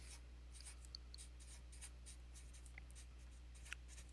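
A pen writing on a piece of paper while working through a math problem: faint, scratchy strokes and light taps over a steady low hum, with no talking.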